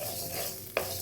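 Tomato pachadi ingredients sizzle softly in a pan, with a steady faint frying hiss and one brief scrape of stirring near the end.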